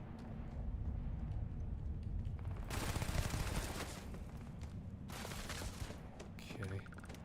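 Automatic weapon fire in the space game Starfield, dense rapid bursts running under game ambience, loudest in a sustained stretch midway and another burst near the end.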